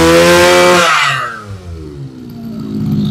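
A Japanese-made Robin grass cutter's small two-stroke engine revs loudly, then drops to a lower idle that gradually climbs again, close by with no talking.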